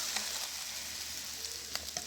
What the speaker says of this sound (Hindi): दाल हमारी रेडी है, इसको हम तड़का दे देंगे।